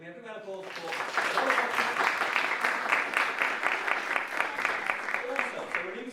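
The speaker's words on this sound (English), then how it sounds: "So can we have a round of applause for" Audience at an artist entrepreneur day event breaking into applause, swelling after a second and continuing as steady, moderately loud clapping with faint voices mixed in.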